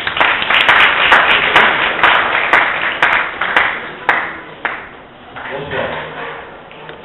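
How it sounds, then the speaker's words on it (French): Scattered audience clapping greets a sociologist introduced to speak at an evening talk, sharp individual claps at an uneven rhythm that thin out and fade, with a murmur of voices underneath. "sous vos applaudissements"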